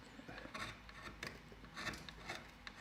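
Sharp gouge carving wood on a hand-carved eagle: faint, quiet rasping strokes scrape the wood in an uneven rhythm, close by with no talk.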